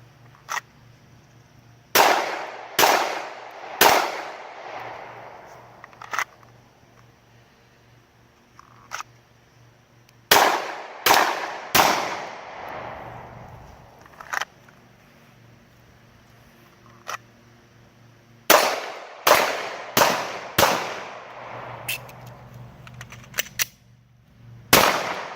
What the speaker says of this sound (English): So we're going to do a couple draws just to get some sight picture on target. Pop a couple off reholster